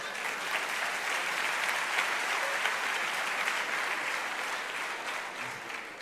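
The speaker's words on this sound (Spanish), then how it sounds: "Otro aplauso para Juan y Beatriz." Sustained audience applause at a church gathering, a dense, even wash of many hands clapping at steady volume for the full stretch, with no talking over it.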